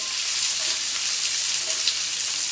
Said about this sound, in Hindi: और अपने स्वीट कॉर्न भी डाल देते हैं। इनको अच्छे से पकाना नहीं है, बस थोड़ा सा फ्राई करना है